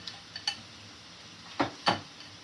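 Cooked linguine tipped into a pan with lobster, garlic and herbs, giving a few quick metallic clinks and scrapes of utensils on cookware, two louder knocks near the end, close and otherwise quiet.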